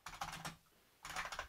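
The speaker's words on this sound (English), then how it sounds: "I'm typing over you here" Bursts of typing on a computer keyboard during a Linux system install session, rapid clustered keystrokes in two runs separated by a brief pause, close and fairly quiet.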